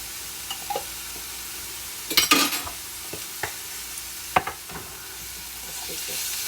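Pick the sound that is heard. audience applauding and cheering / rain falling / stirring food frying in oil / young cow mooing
stirring food frying in oil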